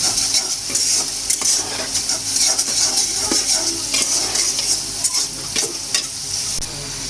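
Fried chicken pieces get stirred into Bengali-style chicken bhuna khichuri in a pot: a continuous close sizzle with repeated scraping strokes and occasional clinks of a spoon against the metal.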